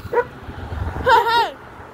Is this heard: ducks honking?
no